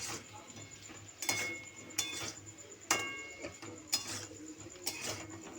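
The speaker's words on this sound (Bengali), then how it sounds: "এটার মধ্যে পুরোটা সব ঢেলে দিচ্ছি। ঢেলে আমি নাড়াচাড়া করছি।" A utensil stirs chilli chicken in a pan, giving about five evenly spaced metallic scrapes and clinks roughly a second apart over a low steady stove hum.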